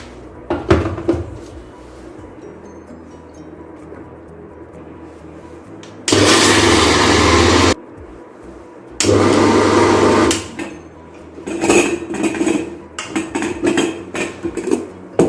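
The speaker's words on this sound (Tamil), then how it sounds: "மிக்ஸி ஜாரில் போட்டுட்டு ஒரு திருப்பி எடுத்துக்கலாம்." A mixer grinder whirs loudly grinding cooked lentils in two short bursts, each lasting a second or two, between clattering and knocking of a jar and lid.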